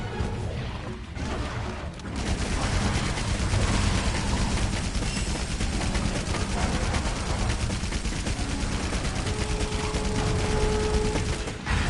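Sustained Gatling fire from a heavy bowgun in Monster Hunter World, a dense, rapid mechanical rattle of shots that runs loud and unbroken for most of the stretch after a brief quieter opening.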